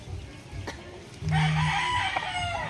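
A fighting rooster crows once, loud and near, a drawn-out call that begins partway through over a quiet background with faint talk and farmyard noise.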